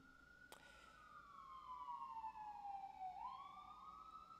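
Siren of an emergency vehicle passing outside, a faint wailing tone sweeping down then back up at a distance, preceded by a brief sharp click.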